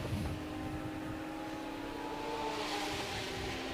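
Number 33 Audi race car at the Red Bull Ring during a 12-hour endurance race, its engine a steady loud drone with rising and falling tones as it passes, amid continuous track noise.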